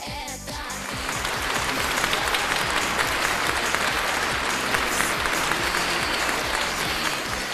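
Loud, dense applause from an audience at a beauty pageant, a sustained wash of clapping from a large crowd that fills the whole stretch, with a few rhythmic beats of music underneath at the start.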